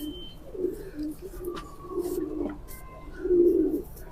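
Pigeons of a fancier's flying breed coo in low, throaty bursts, several calls in a row close by, with faint background noise and no talk.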